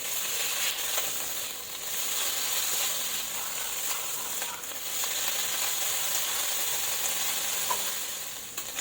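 Pork fries in a small amount of oil while being stirred for pancit Lucban habhab, with a steady close hiss and sizzle broken by periodic scraping stirs. No talking is heard.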